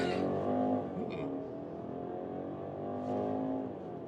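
A 2025 BMW X3 20i with a 2-liter 4-cylinder engine accelerating to 100 km/h, heard from inside as a rising then settling engine drone with clear gear-change steps, moderately loud and close.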